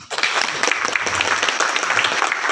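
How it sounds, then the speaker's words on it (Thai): An audience at a closing ceremony for an academic writing training program claps for the guest speaker, a brief burst of moderately loud, dense applause filling the room. "ปรบมือให้ท่านวิทยากรอีครับ"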